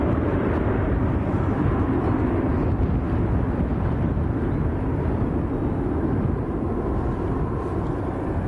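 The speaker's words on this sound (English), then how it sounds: "Boeing 738." A Boeing 737-800 airliner roars at Manchester Airport, a broad, heavy jet rumble with wind buffeting that stays loud and close for the whole stretch and fades slightly near the end.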